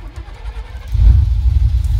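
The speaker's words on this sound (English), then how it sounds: "No, you're grinding the starter." A car's starter grinds briefly before the engine fires and settles into a loud, rough low rumble close by, with no talking.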